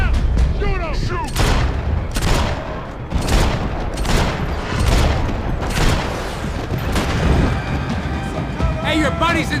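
Heavy gunfire in the video game Max Payne 3: repeated loud bursts and booming shots pound steadily through the whole stretch, with shouting voices breaking in between volleys.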